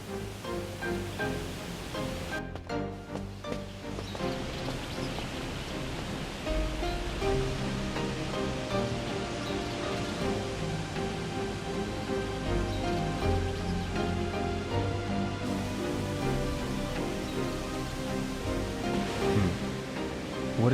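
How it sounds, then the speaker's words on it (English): Continuous rushing water like a waterfall in the video game Shenmue II, a steady broadband roar heard under soft game music tones. "It sounds like a waterfall."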